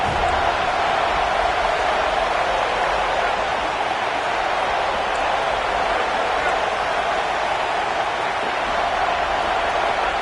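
Roaring home crowd in the College Football 26 video game, a steady dense wall of stadium noise swelling on a third-down defensive stand, loud and continuous throughout with a broadcast commentator talking over it.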